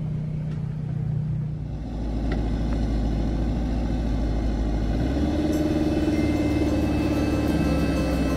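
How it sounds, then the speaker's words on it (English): Road traffic rolling in and out of the RTR gathering: steady engine rumble from nearby cars, with a vehicle pulling closer and accelerating partway through. No one speaks. "There is definitely some traffic coming in and out of the RTR."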